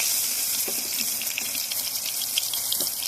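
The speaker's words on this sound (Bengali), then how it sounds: "তেল গরম হয়ে গেছে বেগুনটা দিয়ে দিচ্ছি" Eggplant frying in hot oil in a pan, a loud steady hiss and sizzle filling the whole clip with a few soft crackles, no voices.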